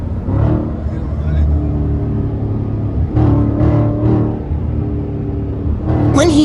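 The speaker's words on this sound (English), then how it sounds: "When he heard my car rev and didn't want to run it" A Dodge Challenger Scat Pack engine rumbles low and steady on a highway, with short rising revs and a sharper burst at the end, under intermittent talk inside the car.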